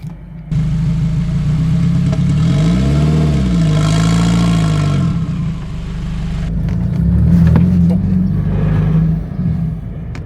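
Turbocharged K24-swapped Toyota MR2 pulling away on the street, its engine note rising and falling through revs as it accelerates, loud and close with a steady drone throughout.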